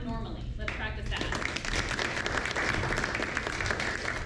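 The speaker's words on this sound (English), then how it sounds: "when he gets closer, we're gonna clap normally. Let's practice that." An improv show audience bursts into normal-paced clapping after a brief spoken line, and the crowd's applause then fills the room steadily and evenly.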